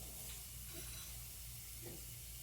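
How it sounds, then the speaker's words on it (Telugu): Semolina (rava) frying in a pan for coconut upma, giving a steady, soft, even sizzle and hiss throughout with faint stirring scrapes beneath, heard close and alone. "జస్ట్ కొద్దిగా పచ్చివాసన పోయే వరకు ఫ్రై చేస్తే సరిపోతుంది"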